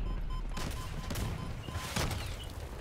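Missiles slam down in the Crossout vehicle-combat game, a quick string of loud, crunching blasts and debris crashes over roughly three seconds of battlefield noise.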